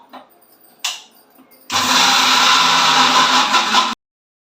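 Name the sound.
mixer grinder grinding ingredients for bellam dibba rotti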